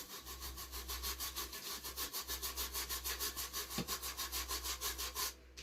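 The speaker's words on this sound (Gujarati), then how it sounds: "આવું આવે ને વાસણ ધોવાનું આપણે બ્રાશ જેવું લઈ લેવાનું અને એને સફાઈ માટે માથે આમાં મને ઘસી નાખવાનું" A brush scrubs the grinding stone of a household flour mill, a steady rapid back-and-forth rasping that runs continuously at close range under a low hum, with no talk.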